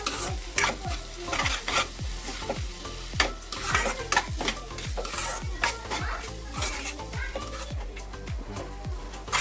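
Ginger garlic paste sautéing in oil for pav bhaji, a continuous close sizzle broken by rapid, regular clanks of a spatula against the pan, loud and busy with no talking.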